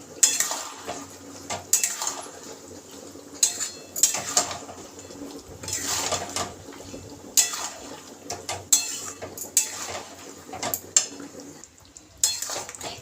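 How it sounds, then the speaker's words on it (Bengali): Fried chicken pakoras for chilli chicken are tossed in a pan, with a series of sharp spatula clanks and scrapes against metal in an uneven rhythm over a faint sizzle, close by. "এবার ভালো করে নেড়ে দেবো।"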